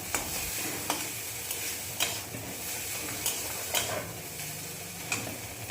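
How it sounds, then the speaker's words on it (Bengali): Fried okra being stirred into a mustard spice mix in a pan: a steady sizzle runs throughout, with regular sharp ticks of a spoon against the pan, close and alone. "এবার ভেজে রাখা ঢ্যাঁড়সগুলো এর মধ্যে দিয়ে সব কিছু আরও একবার মিক্স করে নিচ্ছি"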